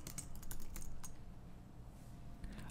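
Quiet keystrokes tap on a computer keyboard at close range, a short burst of irregular clicks followed by a few scattered presses over a low background hum.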